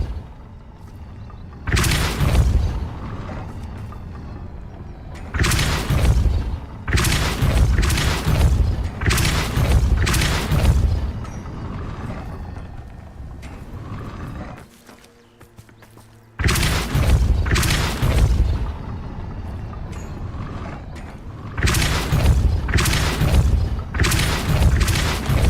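Repeated Depulso force-push spell blasts in the Hogwarts Legacy video game, heavy booming bursts in clusters of two or three with short gaps, loud and close, with a quieter lull midway before the blasts resume.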